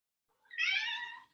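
A house cat gives a single clear, close meow after a brief silence, drawn out for under a second and heard alone.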